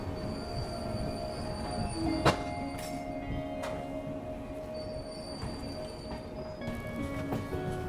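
Train wheels squeal as the Mumbai to Prayagraj Duronto Express runs along the rails. Thin, sustained metallic squeals ride over a steady rumble, with a sharp clank near the middle, heard from inside the moving train; no speech.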